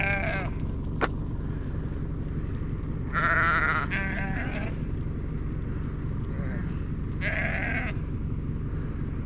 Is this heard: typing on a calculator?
no